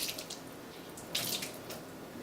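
Tap water runs steadily from a kitchen faucet onto a paper towel being wetted, a quiet continuous splashing hiss with small surges partway through and no talking.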